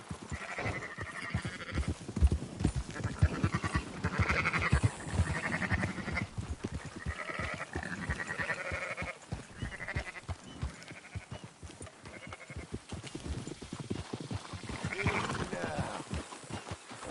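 Sheep bleating in Red Dead Redemption 2, a scattered flock calling repeatedly in overlapping bleats at close to moderate distance, with hoof clip-clop and faint ambient noise beneath.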